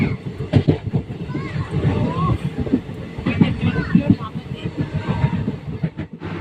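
A fast-moving train on the Kolkata to Guwahati route rumbles and rattles steadily along the tracks, loud and close, with voices talking over the noise.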